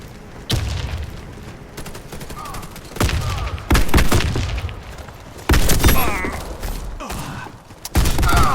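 Gunfire and explosions in a multiplayer shooter video game, loud bursts of shots and booming blasts in clusters across the clip, with mechanical clatter between them.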